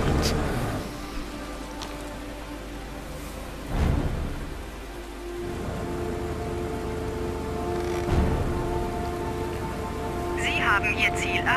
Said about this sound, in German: Eine Menge Regen erwartet uns.